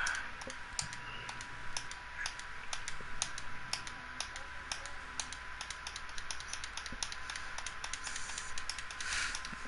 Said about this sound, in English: All you hear is clicking.